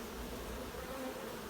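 Honey bees in a beehive hum in a steady, dense buzz that holds evenly from start to finish, soft and close.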